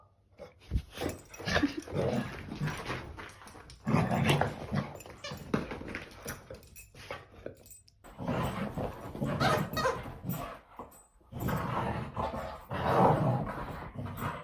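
A wet, irritated dog grumbles, pants and whimpers almost continuously at close range, in restless bursts broken by short pauses.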